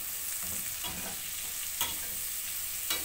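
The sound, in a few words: stirring vegetables frying in a pan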